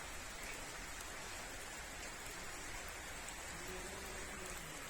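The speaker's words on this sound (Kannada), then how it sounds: "ಈ ವರ್ಷದ ಮೊದಲ ಮಳೆ" The first rain of the year falls as a steady, even hiss of drops that stays faint and unbroken throughout, with no voices over it.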